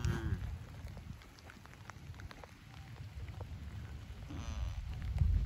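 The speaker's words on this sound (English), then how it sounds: "well, it's raining." Steady rain patters on a surface, a dense wash of small drops with low rumbling underneath, fairly quiet and continuous throughout.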